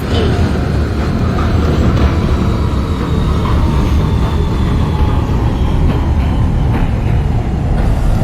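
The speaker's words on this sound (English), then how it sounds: "This is a Manhattan-bound F local train." In a train simulator game, a New York City Subway R160 train runs on the F line with a loud, steady rumble and rolling rail noise throughout. No voices are heard over it.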